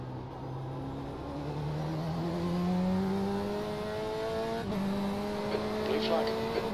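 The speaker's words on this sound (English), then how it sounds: "There's a faster car approaching." Race car engines in the iRacing sim at the 24 Hours of Daytona, a steady drone with rising harmonic whine as a faster car closes in and passes, engine tones sweeping upward, with a voice talking over it.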